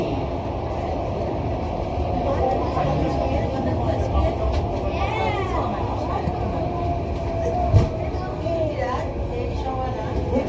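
Rumbling SMRT metro train running between Woodlands North and Woodlands South with clattering and squealing wheels, a steady loud roar with one sharp clank, and voices faintly underneath.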